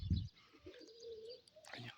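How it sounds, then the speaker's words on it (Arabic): Pigeons returning to a rooftop loft, giving soft cooing and chirping calls at close range, with a brief low thump at the start and a rustle near the end; no one talks. "هيا رجع الحمام"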